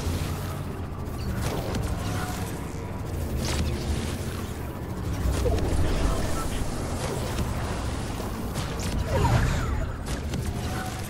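Gunfire in the video game Fortnite, heard as scattered sharp bursts and booming reports over a constant rumbling game background, with no voice on top.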